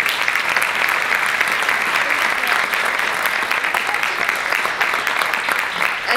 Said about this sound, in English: Let's give our panelists a warm applause.